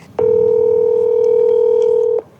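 A telephone tone while calling a number from a Highway Patrol trooper's phone: one steady, loud electronic tone held for about two seconds, with no talk over it.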